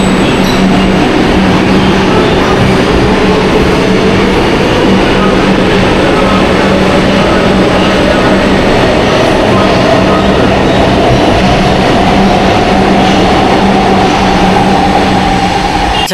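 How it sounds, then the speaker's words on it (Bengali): A metro train at Noapara station on the Yellow Line runs loud and close, its motor whine climbing steadily in pitch over a constant heavy rumble and faint wheel clatter, with no voices. "আমরা মেট্রো থেকে নামলাম"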